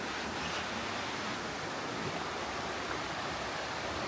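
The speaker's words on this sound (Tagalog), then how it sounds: "Yung tunog ng agos" Steady broadband rush of a flowing freshwater stream or small waterfall nearby on Samal Island, Philippines, continuous and even with no voices.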